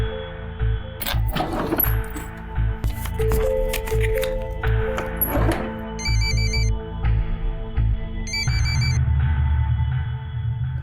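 A mobile phone ringtone chimes in repeated short electronic melodic bursts over a busy room background, with the ring pattern returning several times.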